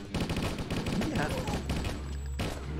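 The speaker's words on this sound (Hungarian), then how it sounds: "Lövés hangok vannak már." Rapid gunfire from a roleplay video game, a series of sharp bursts running through most of the moment, with voices talking over the shots.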